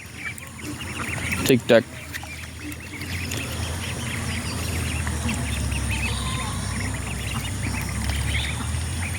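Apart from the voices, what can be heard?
ducks let out after rain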